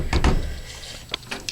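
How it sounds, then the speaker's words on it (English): An old, beat-up bedroom door with a busted hinge is pulled, giving a close creaking and scraping burst followed by a few faint clicks and taps. "if you pull on this door, see how the hinge is busted off of there"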